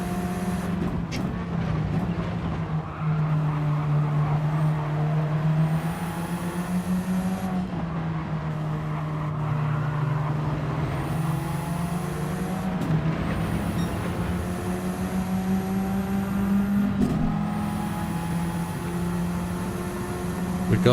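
A race car engine in a no-assist racing video game revs and shifts through gears, its pitch rising and dropping repeatedly as it accelerates, loud and continuous with no talk.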